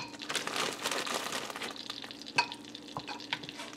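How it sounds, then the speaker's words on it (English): Par-cooked oven roast potatoes tipped into a frying pan, a dense rush of clattering and crackling sizzle that thins into scattered pops and knocks, close and steady. "We're going to put in some of our par-cooked oven roast potatoes."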